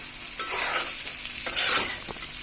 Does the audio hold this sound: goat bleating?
no